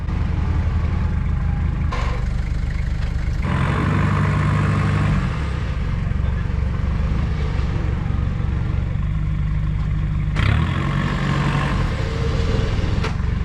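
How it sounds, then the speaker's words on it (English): A Toyota Hilux on Kumho MT71 mud tyres idles and creeps in reverse while its winch is eased off in boggy ground, a loud steady engine drone with a few surges in revs. "I'm backing the winch off as I'm reversing to try and get my nose a little bit more left hand down"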